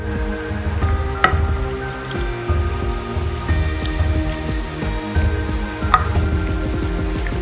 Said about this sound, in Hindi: एक कप दही डालेंगे और अच्छी तरीके से मिक्स करेंगे।